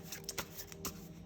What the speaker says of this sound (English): Some people like to shuffle like this because you get more jumpers